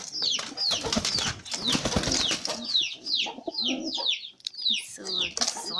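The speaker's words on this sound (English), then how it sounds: "We have the doves in here." Doves in a farm cage coo softly while wings flap and flutter in bursts, with chicken-like clucks and rustling nearby, close and busy throughout.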